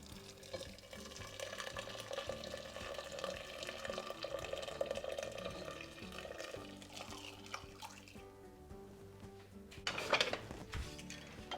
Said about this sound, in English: And to this goes in